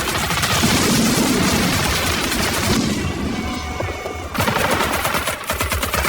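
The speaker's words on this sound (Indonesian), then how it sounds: "Joker terpaksa melepaskan peluru full metal jaketnya untuk membantu rekan-rekannya mencegah musuh memasuki markas ini" Film soundtrack of soldiers firing full metal jacket rounds to hold off enemies entering a base: loud, dense bursts of automatic gunfire, briefly dropping to a quieter pause before a second burst resumes.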